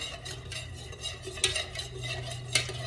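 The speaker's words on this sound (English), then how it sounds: "And you just stir it in really, really good so that everything will be mixed in." A candle wax mixture being stirred in a container with a utensil, giving soft, steady scraping swirls close by, with two sharper taps against the side and no talking.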